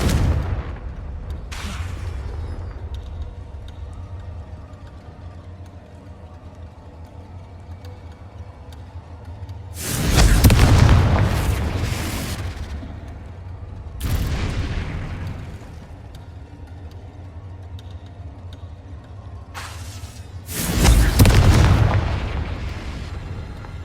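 Confringo blasting curse explosions in Hogwarts Legacy, three loud booming blasts with a rumbling tail, spaced several seconds apart over a low steady game ambience, with no talk.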